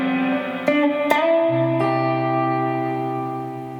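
Acoustic guitar playing the opening section of a piece, a few plucked notes and chord hits ringing out and sustaining softly, close and alone with no talk.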